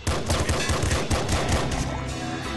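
Rapid shotgun blasts from gator enemies in the Nuclear Throne game crowd together into a loud, dense barrage, with shots overlapping almost continuously for a few seconds.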